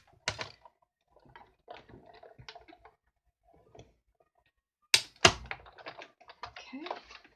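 A die cutting machine rolls card and dies through its rollers for a window box tea light holder craft, giving scattered clicks, thunks and mechanical rattles, with two sharper loud knocks near the middle and a busy grinding stretch at the end.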